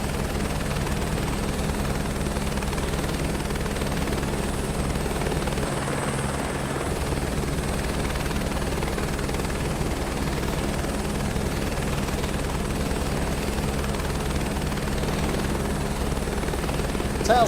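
Helicopter flying in a career mode video game, a loud continuous rotor thrum with steady engine whine, unbroken and close throughout.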